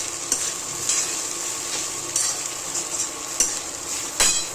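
Poha being gently stirred in a frying pan with fried onion, a steady bright sizzle broken by a handful of sharp scraping clicks of the spoon against the pan at an irregular pace.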